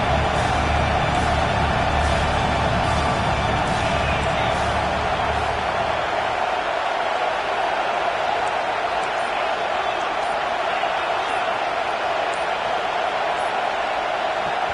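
A football stadium crowd roaring for the defense on third down, a loud, continuous wash of noise that stays steady throughout, with the low rumble thinning after the first few seconds.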